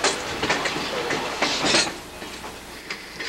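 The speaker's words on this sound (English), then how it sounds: "our train backed north to the CSX junction at Green Spring" A South Branch Valley Railroad excursion train reverses toward a CSX junction, its wheels clacking over rail joints in a rough rhythm with metallic rattling, loud and close.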